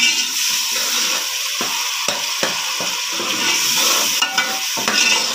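Frozen crushed tomatoes go into sizzling salan curry, giving a loud, continuous frying hiss broken by scattered clicks and scraping stirs in the pot, heard close up.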